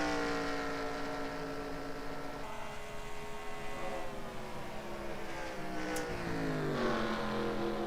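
A NASCAR race car engine at Homestead Miami Speedway during the Amtrak 300, a sustained high whining roar whose pitch shifts as the car works through the corner, loud and continuous with no talk.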